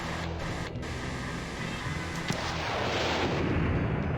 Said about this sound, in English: Missile launch!